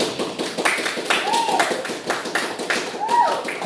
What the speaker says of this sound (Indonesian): bagus ya, tepuk tangan untuk Aji.